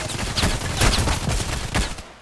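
Rapid gunfire in the online shooter Contract Wars, with dense overlapping bursts that keep up loud and steady throughout, no voices over it.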